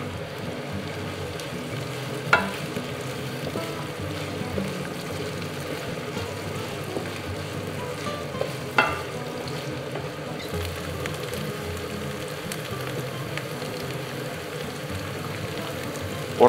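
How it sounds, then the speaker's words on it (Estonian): Carrots frying in a pan for ratatouille, a steady soft sizzle running throughout with a couple of faint sharp clinks from stirring. "Porgandid hakkavad juba praetud porgandi moodi minema."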